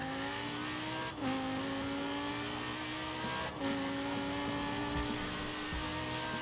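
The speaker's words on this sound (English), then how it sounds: "it's redlining like crazy" A Lamborghini Huracan Performante engine in Forza Horizon 4 revs hard near redline, a steady high-pitched roar with two brief dips between fast gear shifts, loud and continuous.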